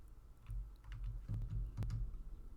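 Quiet typing of commands on a computer keyboard, a run of light, irregular key clicks with a few sharper taps, close and alone without talk.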